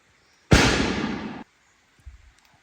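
A single sharp gunshot rings out during a squirrel hunt, a loud close blast with a short decaying tail, followed by a couple of faint low thuds.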